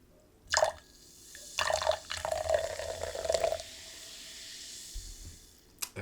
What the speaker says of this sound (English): I will do the honors of the first pour.